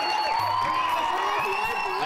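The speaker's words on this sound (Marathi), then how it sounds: "जोरदार टाळ्या झाल्या पाहिजे त्यांच्यासाठी." A theatre audience at a Marathi college drama competition claps and cheers for a judge, a loud continuous wall of applause with whoops and shouts filling the whole span.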